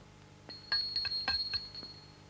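Small bells in a children's story tinkle softly, several light strikes ringing over one another with a lingering bright tone, faint and without speech.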